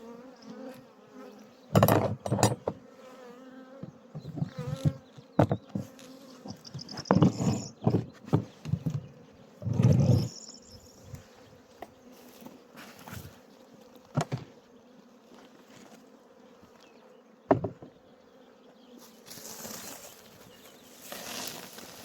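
Honeybees buzz steadily around opened beehives during an inspection after winter, with close thumps and clatter from handling the hives.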